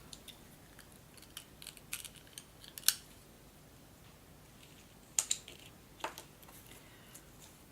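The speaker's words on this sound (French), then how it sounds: "Là, je vais couper à peu près la même longueur." Scissors cutting paper for a small craft project, a handful of quiet, crisp snips spaced unevenly over a near-silent room.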